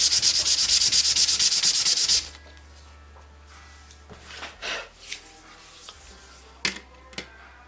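Brisk sanding strokes on a model airplane propeller being balanced, a loud steady scrubbing for about two seconds, then quiet handling with a few soft rubs and light taps.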